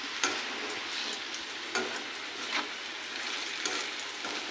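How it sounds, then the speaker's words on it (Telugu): Vegetables frying in a pan give a steady close sizzle with occasional stirring scrapes and clicks, alone without voices. "ఇంకా వేగాలి ఇవి. చూడండి ఫ్రెండ్స్, ఇలా వేగిపోయాయి."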